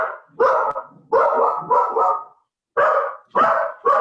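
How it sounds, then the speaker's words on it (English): Several dogs, one big and one little, bark close by in repeated bursts of sharp barks with short pauses between, a noisy indoor commotion with no talk over it. "Little dog. Big dog, little dog."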